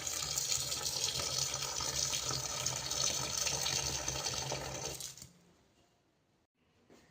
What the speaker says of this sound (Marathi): या कोथिंबीरीमध्ये आता आपण पाणी घालणार आहोत.